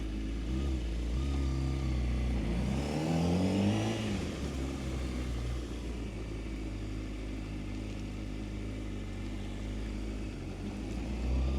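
A 2020 Honda CBR600RR runs at close range with a steady, smooth engine drone, briefly rising in a rev as it pulls away and then holding an even hum.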